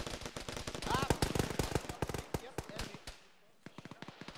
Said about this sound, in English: One's taking sporadic fire from that building to our southwest.